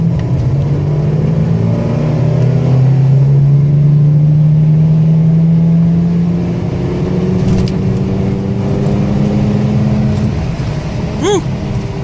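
A 1992 Oldsmobile Toronado Trofeo with exhaust work pulls away on a road test run, its engine note rising steadily as it accelerates, a loud close drone with rumbling underneath and a brief whistle near the end.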